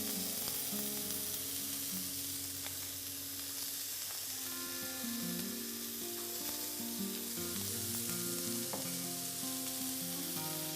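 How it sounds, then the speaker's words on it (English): A beef burger patty fries in a pan with a steady, dense sizzle and crackle that goes on without a break at close range. "And we let it cook for about 7 minutes each side for a well done."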